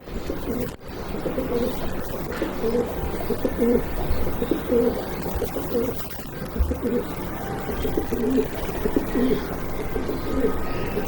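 Raj-golla pigeons coo repeatedly in soft, rolling phrases at close to mid range, several birds overlapping over a steady background hum.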